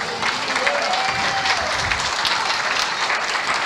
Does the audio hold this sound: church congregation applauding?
yes